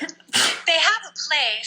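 A single sharp, close sneeze bursts out, and a voice follows at once with brief speech.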